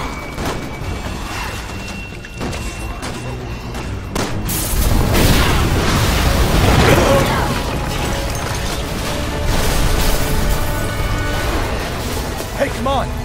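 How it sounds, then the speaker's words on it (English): A gas tank explodes in Resident Evil 6 with a heavy, rolling boom that swells midway and lingers in a rumbling crash, following scattered shots and clatter, with voices talking over the game. "Someone shoot the gas! We can blow these things to kingdom come!"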